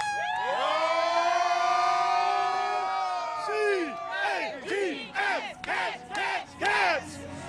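A crowd of Kentucky Wildcats fans at the SEC tournament in Nashville lets out a long rising whoop together, then breaks into short rhythmic shouts and cheers, loud and nearby.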